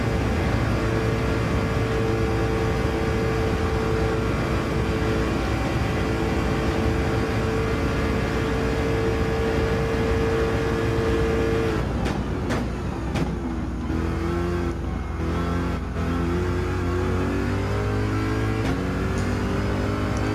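A race car engine in Gran Turismo 7 drones at high revs through a long overtake, a steady loud tone that later shifts pitch as the car changes gear and sweeps past.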